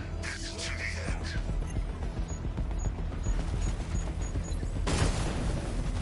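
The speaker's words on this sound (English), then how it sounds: "The explosion disabled the main cannon." Explosions and rapid gunfire in the Batman: Arkham Knight video game, a dense, loud barrage of booms and shots that continues throughout, swelling near the end.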